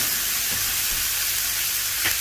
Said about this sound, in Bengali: আমি এই হিটে পেঁয়াজগুলোকে একটু ভেজে নিব।